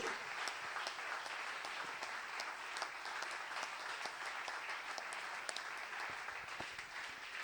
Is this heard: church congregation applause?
yes